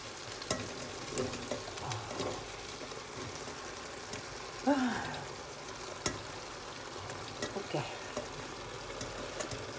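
Potatoes fry in a hot pan, a steady soft sizzle with a few stirring scrapes and clinks. A voice speaks quietly now and then.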